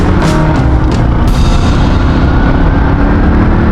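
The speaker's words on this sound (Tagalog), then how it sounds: "Sama yung tunog ng" A loud, rough motorcycle engine roar with a crackling, sputtering exhaust runs steadily throughout, the exhaust patched and leaking, riding along a mountain road.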